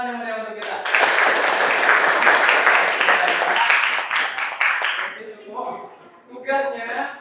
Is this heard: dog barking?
no